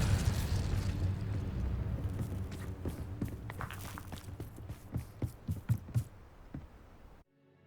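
Incendio fire spell cast in Hogwarts Legacy, a burst of fiery whooshing followed by a run of sharp crackling pops and thuds that grow louder, then cut off abruptly.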